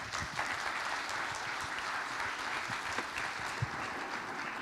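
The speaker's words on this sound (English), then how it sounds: "Another big round of applause for Chair Representative Mark Maloney for his touching story." An audience claps after a speech at a Rotary seminar, sustained even applause heard from a distance and fairly faint, with no talking over it.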